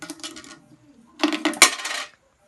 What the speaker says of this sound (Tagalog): try natin maghulog ng barya